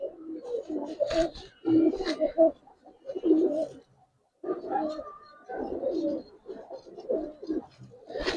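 Giribaz silver (mati) breed pigeons coo close by in repeated soft, throaty bursts separated by short pauses, with a few sharper wing or cage sounds and little talk.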